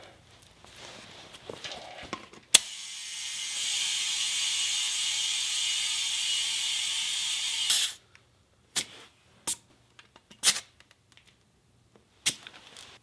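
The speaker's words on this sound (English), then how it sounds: "now what we're going to do is fill this tire back up with air" A repaired tire being filled with air, heard as a steady close hiss lasting several seconds, bracketed by sharp clicks of the air chuck being set on and pulled off the valve, followed by scattered small taps.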